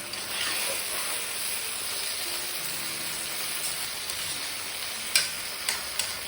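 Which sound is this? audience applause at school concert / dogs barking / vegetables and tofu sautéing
vegetables and tofu sautéing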